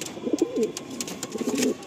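Red-headed Lalsira pigeons at a pigeon sale coo softly in two low, throaty bursts, close by and fairly quiet over faint background noise.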